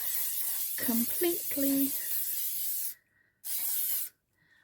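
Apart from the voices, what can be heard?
hairspray being sprayed onto a ribbon hair bow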